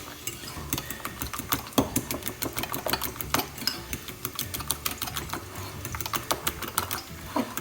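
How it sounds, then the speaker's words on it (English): Eggs are whisked with a fork in a bowl for a pancetta and mushroom carbonara sauce, giving rapid, light clicking taps of metal on the bowl in an uneven, continuous rhythm, close by and fairly quiet. "So now we're just going to give this a little whisk with a fork"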